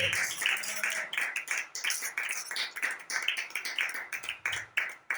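A congregation at a prayer vigil clapping in a steady, rhythmic beat, dense and continuous throughout, with a brief murmur of voices at the start.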